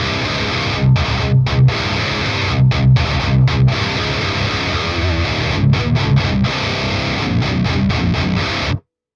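Heavily distorted electric guitar through an amp simulator playing a chugging riff with brief stops, thick and loud, ending abruptly.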